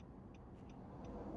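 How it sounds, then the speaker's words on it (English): Heavy road traffic with big trucks rolls by as a steady low rumble, faint and continuous, with a few light ticking sounds on top and no voices. "All these big ass trucks."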